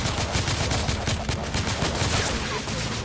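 Heavy gunfire from several weapons rattles nonstop through a battle in The Order: 1886, a dense, loud barrage of rapid overlapping shots.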